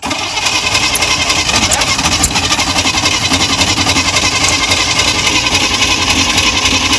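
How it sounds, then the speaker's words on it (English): A Corvair engine cranks over loudly and continuously without catching, a dense close-up mechanical churn with a steady, even rhythm throughout. "All right, crank her up."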